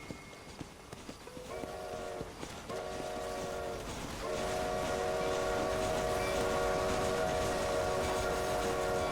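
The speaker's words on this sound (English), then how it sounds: "Don't want to get hit by the train." A train in the video game Red Dead Redemption sounds its horn in repeated long blasts, first in two short bursts and then one sustained tone, over rumbling rail noise and the clip-clop of a horse, growing louder and closer.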